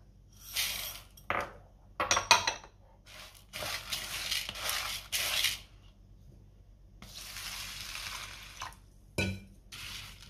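Lentils and rice being rinsed by hand in water in a home kitchen, with intermittent bursts of sloshing and swishing, pauses between rinses, and a few splashy pours, close and fairly loud, no talking.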